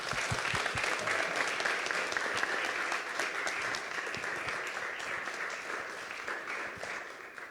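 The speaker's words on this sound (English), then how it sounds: "applause." Audience applause at a startup showcase conference session, a dense, steady wash of clapping from a sizable crowd that holds throughout and eases slightly toward the end.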